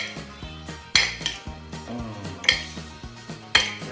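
A spoon stirs food in a cooking pot as a fast-breaking meal is prepared, scraping and knocking against the metal in repeated clanks, several of them sharp, over a steady low background.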